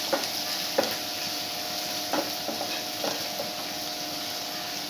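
Chopped tomatoes frying with kanthari chillies in a pan make a steady, even sizzle, broken by a few sharp clicks and scrapes of a spoon stirring, close by with no one talking.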